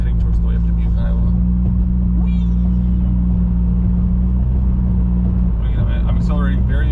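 A Nissan Altima cruises on a hilly highway, accelerating gently under a steady low engine and road rumble. A driver talks over the drone.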